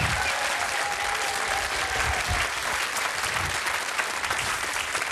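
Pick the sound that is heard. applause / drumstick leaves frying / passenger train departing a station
applause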